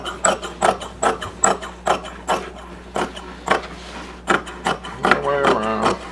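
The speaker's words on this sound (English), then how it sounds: "we're going to cut this half of an inch bigger" Fabric being cut for upholstery rollover arm caps gives a steady series of crisp, rhythmic snips and rustles up close, with a voice speaking near the end.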